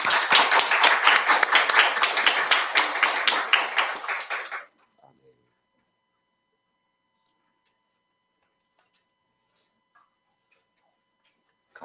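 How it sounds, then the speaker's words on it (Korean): A church congregation claps in unison, a dense rhythmic applause lasting about four and a half seconds before cutting to near silence. "다시 한번 하나님께 감사한 박수 한번."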